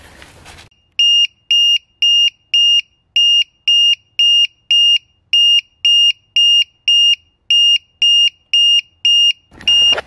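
A loud electronic battery alarm in a Nissan Leaf with a low battery cell beeps in a rapid, regular pattern, about sixteen piercing tones in a row, with quiet background before and after.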